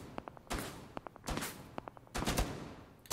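Gunfire in the video game Rainbow Six Siege rings out as sharp close shots and brief automatic bursts, irregularly spaced over a few seconds.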